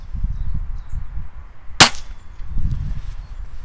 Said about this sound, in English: For for safety, I'll just fire this off.